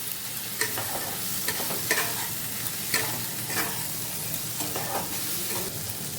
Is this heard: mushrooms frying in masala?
yes